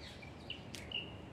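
Perit bird, a bulbul-type songbird, calling in a misty Hong Kong village: a few short thin chirps and whistles over faint steady ambient hiss, with no talk.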